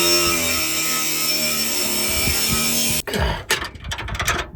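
A power saw cuts through a 4-inch steel exhaust tailpipe on a first-generation Cummins 12-valve truck, a steady high whining buzz lasting about three seconds, then stopping into clanks and rattles of metal being handled.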